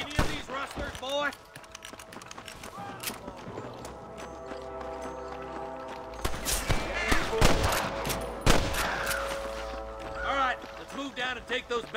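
Gunfire in Red Dead Redemption 2 cracks out in scattered sharp shots and short bursts amid galloping horses and shouting voices, with a musical score underneath.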